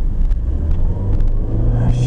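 A car idles and drives close by with a steady low engine rumble, loud and continuous, with faint occasional scrapes and a slight rise in engine noise near the end.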